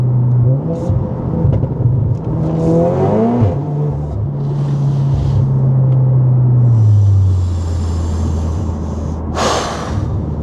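An Audi S3 8V with a Scorpion non-resonated valved exhaust accelerates hard, the loud, close engine note climbing through the rev range, then settling into a steady drone before a sharp burst near the end.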